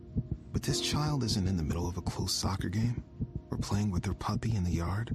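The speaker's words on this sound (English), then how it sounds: "This is the sound of a racing heart." A young child's racing heartbeat from a radio ad thumps as a fast, steady low pulse beneath a narrator who talks throughout.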